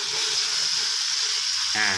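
Chicken pieces stir-fry with coarse curry paste in a wok over medium heat for Thai jungle curry, a loud, constant oily sizzle with a thud of food and a scrape near the end.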